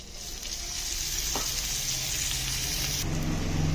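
Onions and cumin sizzle loudly in a pan as oil is poured in, a dense, continuous frying hiss close by, with a brief clink and the sizzle swelling near the end; no voices.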